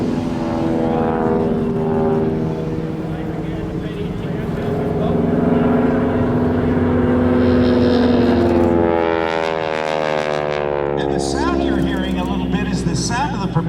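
A heavy propeller-driven aerobatic airplane of about 5,500 pounds flies a slow roll at an airshow, its engine drone steady and loud, then rising into a harsh, rasping buzz as the propeller tips go supersonic near 2,200 RPM.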